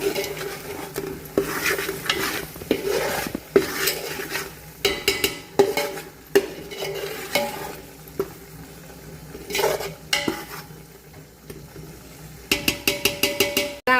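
Pav bhaji masala being stirred in a large pan for a big batch of pav bhaji, a spoon scraping and clinking against the metal in steady strokes with a faint sizzle, close and fairly loud, with no talking.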